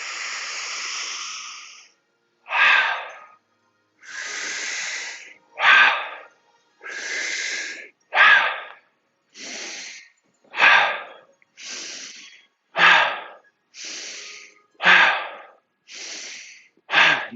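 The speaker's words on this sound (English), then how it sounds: "Open mouth, exhale" A yoga instructor and class breathing deeply through a vinyasa flow, alternating long airy inhales and forceful open-mouth exhales in a steady rhythm of about a dozen breaths, close and loud with no speech.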